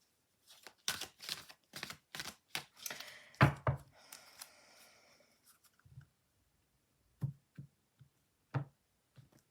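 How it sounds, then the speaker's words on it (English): Oracle cards being shuffled by hand, a quick series of crisp riffling flutters and slaps, then a pause and a few soft isolated taps as the deck is cut, close and fairly quiet with no talking. "one more shuffle and then I'm going to cut and pick"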